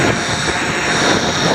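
Two quadcopter drones, a Mini X and a Naza Lite quad, hover outdoors in strong wind, giving a steady, loud, buzzing propeller drone that holds even throughout with no voices.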